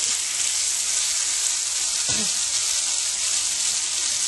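Tofu marinated in Kickin' Asian stir fry sauce sizzles loudly and steadily in a hot pan, broken once by a short clatter midway.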